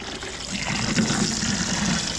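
Water gushes steadily through a small sluice as dirty scrap copper is washed, a continuous close rushing flow with a low gurgle and no speech.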